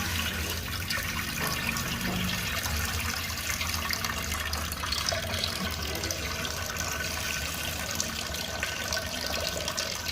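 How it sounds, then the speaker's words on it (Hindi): An amaltas (Cassia fistula) solution mixed in water is poured off slowly, making a continuous trickling and splashing sound that stays close and even the whole time, with no voices. "अमलतास में चूँकि मिट्टी होती है, इसलिए हम लोग बहुत धीरे से इसको निखार रहे हैं"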